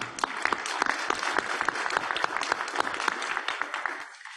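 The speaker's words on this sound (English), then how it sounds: "give you a round of applause" Room audience at a vaccine advisory committee meeting breaks into brisk applause, many hands clapping together at moderate volume before it cuts off near the end.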